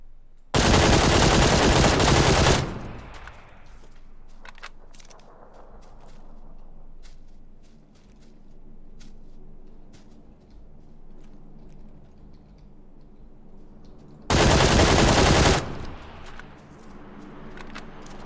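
Two loud bursts of rapid automatic gunfire in a video game jungle setting, each lasting a couple of seconds and far apart, with a quieter stretch of low rumbling between them.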